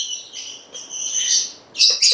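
Young African lovebird chicks in a nest box give high, shrill chirping calls, continuous at first and then in two louder, sharper bursts near the end, with no talking.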